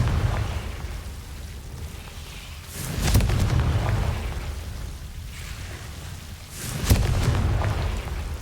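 Confringo blasting spell from Hogwarts Legacy, two loud booming explosions a few seconds apart, each a sharp burst that swells into a rumbling roar over a continuous low background.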